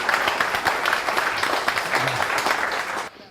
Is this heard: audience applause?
yes